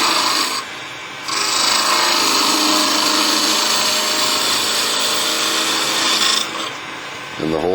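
A skew chisel on a wood lathe, its bevel riding the spinning wood, producing a loud continuous rasping cut that starts after a quieter moment and runs steadily for several seconds before easing off.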